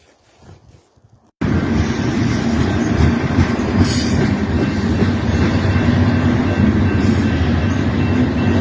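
A Canadian Pacific freight train rumbles past close by, a loud continuous roar of wheels and wagons with faint squeals and clatter, after a brief quiet start.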